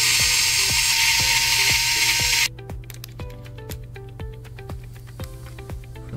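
Screwdriver work on Lenovo ThinkPad X1 Yoga hinge screws during keyboard top case replacement, a loud steady whir at first, then a run of sharp, evenly spaced ratcheting clicks close by.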